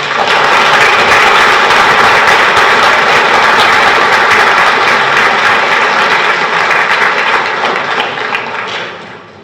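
A round of applause for Monsignor O'Grady at a reception, loud dense clapping that holds steady for about eight seconds before fading out.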